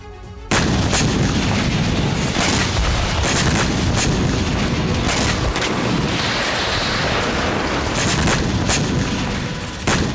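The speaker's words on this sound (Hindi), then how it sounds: "यूक्रेन के एनर्जी ठिकानों, रेलवे स्टेशन, अपार्टमेंट पर एक के बाद एक कई धमाके हुए।" Explosions from Russian missile strikes in Dnipro, Ukraine, form a loud, dense roar of continuous booming and crackling blasts that runs without a break, with no speech.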